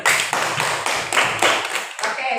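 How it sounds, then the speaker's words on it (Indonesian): A classroom group claps hands in a brisk, dense burst of applause lasting a couple of seconds, close and loud, fading quickly at the end. "Tepuk tangan dulu."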